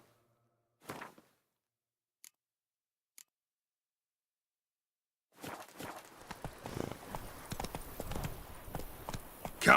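Horse hooves clip-clopping in the video game The Witcher 3, a few isolated soft steps at first, then a dense, steady run of hoofbeats close by, fairly quiet.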